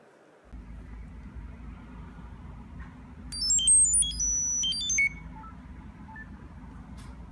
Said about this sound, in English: So again, a few little beeps and you've got the image on your phone.